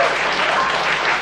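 Sustained, dense applause from an audience at a Depok mayoral candidates' debate, steady and fairly loud throughout without talk.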